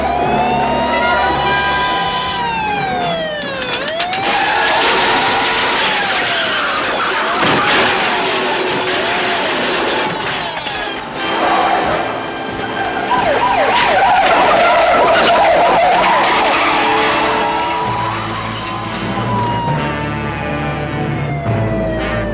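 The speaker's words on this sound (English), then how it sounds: "Stolen vehicle now west on Jackson. 33 and 31 also in pursuit." Police cars chase a stolen vehicle with wailing sirens sweeping up and down while tires skid and screech, engines roaring loud and close throughout a long, continuous pursuit.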